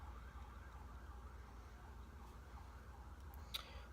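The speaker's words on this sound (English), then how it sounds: "Excuse the sirens." Emergency sirens wailing faintly in the far distance, a low steady rising-and-falling tone under quiet background hum.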